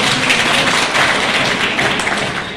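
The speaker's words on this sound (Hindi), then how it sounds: "उसके लिए एक बार जोरदार ताली" Audience applause at a Bharat Vikas Parishad oath-taking ceremony: dense, steady clapping from a crowd that fills the room evenly and fades a little at the end.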